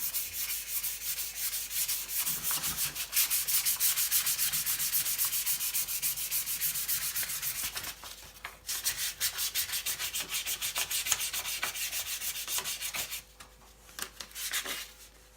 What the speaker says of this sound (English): We're just going to let it dry, then sand it down.